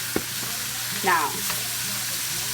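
Seasoned goat meat for curry goat sautés in a pot with a steady, close sizzle and a faint scrape, while a voice briefly speaks near the end.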